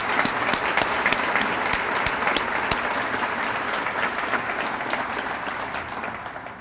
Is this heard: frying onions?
no